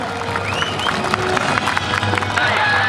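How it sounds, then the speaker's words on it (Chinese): Audience applause and cheering from a crowd at a family-day event right after a drum performance, dense clapping filling the space with voices mixed in throughout. "掌声鼓励鼓励，谢谢。"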